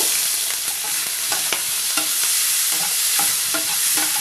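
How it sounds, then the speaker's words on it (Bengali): Prawns sizzle and fry in a few spoonfuls of hot oil in a saucepan, a steady bright hiss broken by repeated clinks and scrapes of a spoon stirring, close and fairly loud with no talking. "তেলের ওপরে এই চিংড়ি মাছগুলো দিয়ে নেব"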